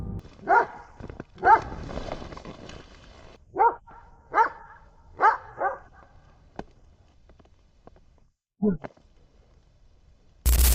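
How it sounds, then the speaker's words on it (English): A dog barks in a series of sharp, loud barks, several in quick succession, then pauses before a couple more, with quiet gaps between. "Then he starts barking."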